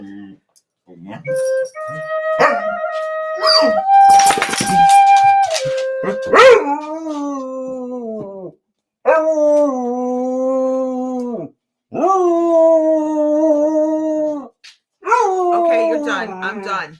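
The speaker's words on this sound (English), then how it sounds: "It's the basset." A basset hound howls in long wavering bursts, several drawn-out cries separated by short pauses, loud and close, with a person talking briefly in between.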